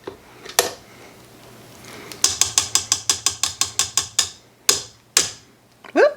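A whisk attachment is worked loose and pulled off a stand mixer, giving a close, loud run of rapid ratcheting mechanical clicks with a few separate sharp clacks afterward.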